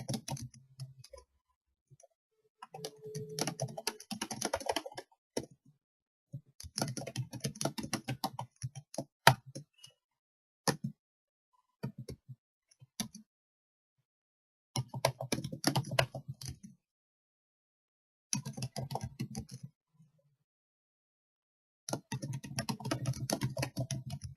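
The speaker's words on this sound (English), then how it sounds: "So I'm going to type in here" Someone types on a computer keyboard in close, crisp bursts of rapid key clicks, with a few isolated taps and quiet gaps between the runs. No one speaks.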